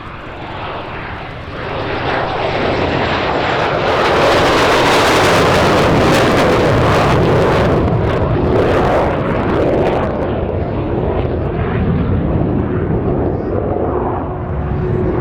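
A MiG-17F jet fighter flying an evening airshow display roars past, swelling from a distant rumble to a loud, broad jet roar that holds steady before easing slightly, with no voices.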